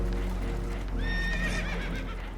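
Spooked horses aboard a damaged, leaking boat in Red Dead Redemption 2 give a shrill whinny over a low rumble and hoof clatter, fairly quiet and without speech.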